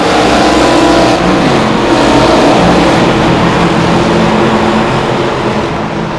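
ARCA race cars in iRacing roaring around Iowa Speedway, a loud, continuous drone of many engines at full throttle as the field pulls away on a green-flag start.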